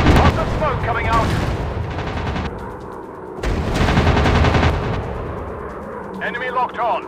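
Aircraft guns roar in the WW2 dogfight game Warplanes, a dense, continuous chatter of rapid cannon and machine-gun fire over engine drone, swelling and easing in loud waves.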